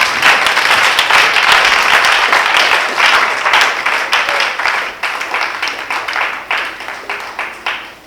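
A church congregation at a women's seminar applauds in praise of the Lord, loud, dense clapping that continues steadily, then thins into uneven rhythmic bursts toward the end.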